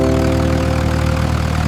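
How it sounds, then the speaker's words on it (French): Small tractor engine running with a steady, humming drone at a constant pitch, loud and close, with no talking. "Le rugissement du petit tracteur était fort."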